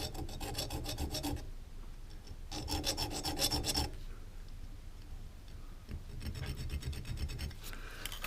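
A Dremel rotary tool cuts slots into the spine lock bar of a Buck 110 or Uncle Henry knife, giving three separate bursts of close, gritty grinding with quieter pauses between them.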